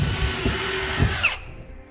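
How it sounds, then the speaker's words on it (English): Power drill with a 1/8 inch bit boring pilot holes while fitting a base rails kit to a 2016 Ram 2500; a steady, close, loud whine runs for over a second, then cuts off and spins down to quiet. "Now I'm going to be using an 1/8 inch drill bit to drill my pilot holes through the holes I marked."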